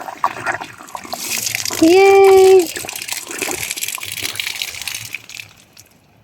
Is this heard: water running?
yes